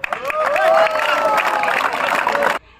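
Parade attendees at a West Bengal Police passing-out ceremony in Asansol clap together in a dense, steady burst of applause with some cheering, loud and close, ending abruptly after a couple of seconds.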